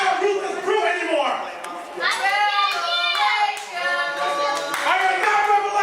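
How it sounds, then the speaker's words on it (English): A sold-out crowd at an RWA Devils Night 2014 wrestling event cheering and chanting in rhythmic swells, with dense clapping and many voices, loud and continuous throughout. "These sold out crowd here chanting for the Revelation, Christopher Sterling."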